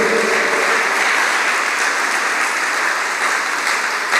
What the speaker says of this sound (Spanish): Denle un aplauso si se lo va a dar fuerte